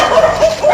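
A dog gives a short run of tonal barks and yelps, fairly close and clear, over roughly a second with no talk.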